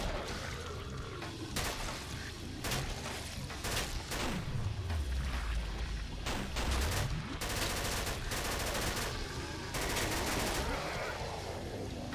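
Type 19 rifle fire in the video game Killing Floor, with rapid bursts of close, loud shots separated by short pauses and mechanical handling noises, while a voice talks underneath.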